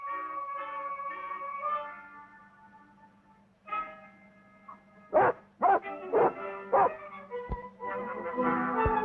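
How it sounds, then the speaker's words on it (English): A dog in a 1947 film barks in several sharp, close barks mixed with whines and yips over an orchestral music score and a low steady hum. "Don't bark."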